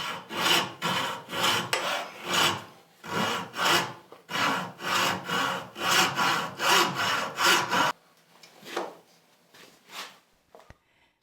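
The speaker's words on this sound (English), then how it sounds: "he continues to use his turning saw to cut" A homemade turning saw cuts a wooden spatula blank clamped in a vise, with about eighteen steady rhythmic push-pull rasping strokes up close, then the sawing stops and a few faint scrapes and handling knocks follow.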